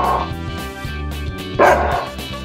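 A dog barks once or twice, fairly close, over a constant background music track.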